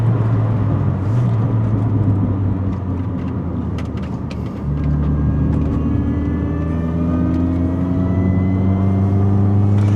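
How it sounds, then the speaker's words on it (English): Supercharged Mini Cooper with a smaller supercharger pulley and a cone filter, driving with a loud, steady engine drone, a rising supercharger whine and induction noise building up, heard from inside the car with no talk. "We've got the supercharger whining because it's got that smaller pulley. We can hear the induction noise with the cone filter."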